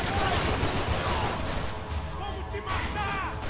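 Gunfire from the Max Payne 3 video game, a dense burst of rapid shots and crashing impacts that fills the moment, then thins out toward the end.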